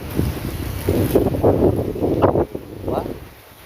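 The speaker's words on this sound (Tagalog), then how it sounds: "Sarap ng hangin dito, mga kabayan, no? Press na press yung hangin." Wind gusting across the microphone with a rough, buffeting rumble, loud at first and easing toward the end, with faint voices underneath.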